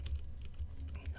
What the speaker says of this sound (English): I just started typing on my PC keyboard like a champion